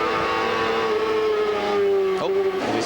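An onboard CART race car with a Swift chassis on Firestone tyres screams at high revs during the Surfers Paradise round, a loud steady engine whine that drops sharply with a gear change, then rises again.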